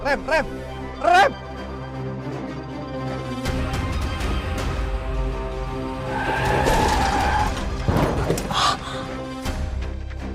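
A car brakes hard with tires squealing and skidding, rumbling mechanical noise and a thud, while voices shout over it.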